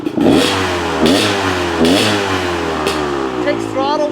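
A Beta X Trainer dirt bike engine is blipped several times, rising and dropping back from idle in a run of close, loud revs while someone talks over it.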